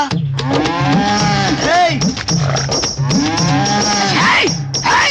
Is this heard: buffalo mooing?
yes